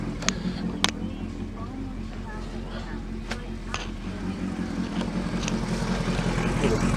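A Suzuki GSX 1250 FA motorcycle engine idles steadily while warming up, a low continuous rumble with occasional sharp clicks and taps nearby.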